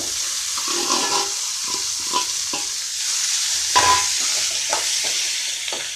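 Chopped banana stem frying with sautéed onions in a pan gives a steady, moderately loud sizzle, punctuated by repeated scraping and tapping strokes of a spatula as it is stirred.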